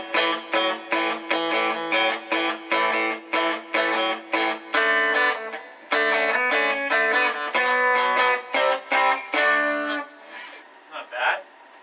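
Electric guitar with a Stratocaster-style Alnico IV pickup played through the built-in Blues Driver effect of a Boss Katana amp, turned up full, gives a crunchy overdriven tone. Chords are strummed rhythmically and close, with no talking, ending on a few softer notes.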